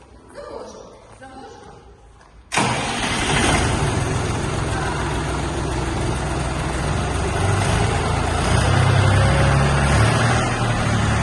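A Dongfeng 244HX tractor's diesel engine starts abruptly after a quiet stretch of voices, then settles into a steady, loud idle with a deep low rumble that holds to the end.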